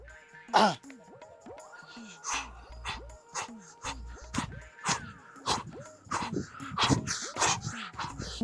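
A dog whimpers and yips repeatedly in short, high-pitched cries, fairly close and continuous throughout.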